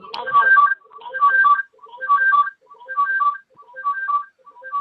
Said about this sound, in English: Somebody needs to mute. It's the phone.